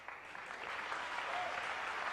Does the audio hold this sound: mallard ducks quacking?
no